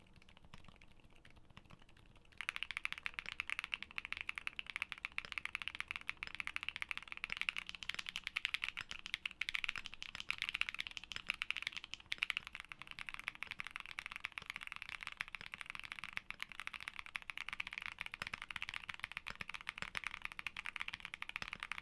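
Mechanical keyboard switches clack in rapid, continuous typing, close and fairly quiet, a dense stream of crisp keystrokes with no talking.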